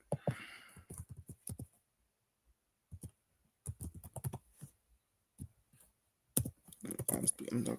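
Bursts of clicky computer keyboard typing come in short runs separated by pauses, fairly close, with someone talking at points in between.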